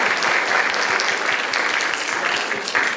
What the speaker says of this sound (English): So a big round of applause for Mr. Moore.